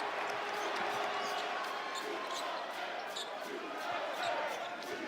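Sellout Arizona basketball crowd in Tucson chanting U of A, a broad roar of thousands of voices with rhythmic pulses and squeaky court sounds, under an announcer's commentary.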